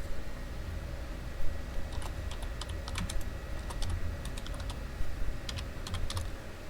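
Fingers type on a computer keyboard in quick irregular bursts of light clicking keystrokes, with short pauses between runs, close and fairly quiet over a low room hum.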